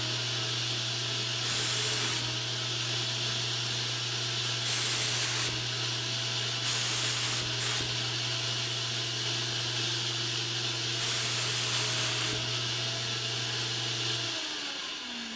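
Spray gun laying down finish with a 6 to 8 inch fan pattern, several short bursts of sharp hissing spray over a steady low compressor hum that cuts off near the end.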